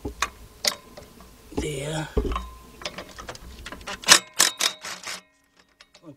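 Power driver with a long extension removing two deep-set bolts on a 2004 Nissan Maxima 3.5 engine, giving a short buzzing whir and scattered clicks and ratcheting ticks, close by, with brief speech.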